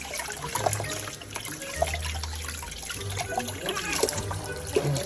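Water trickles and dribbles steadily while pets are bathed, running continuously at close range with faint voices and small splashes over it.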